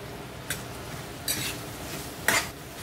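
Sauces and spices are stirred into chilli paneer in a pan, with three distinct scraping clinks of a spoon against the pan over a faint background hiss.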